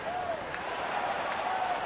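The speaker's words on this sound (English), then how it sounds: "And the crowd is buzzing over that one." A baseball stadium crowd at a Cincinnati at Houston game buzzes after a strikeout, a faint, even murmur of cheering and clapping with a voice over it.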